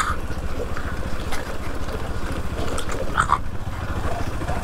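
A dog with a wounded face and a blocked nose growls low and continuously at close range, with a faint engine-like hum underneath.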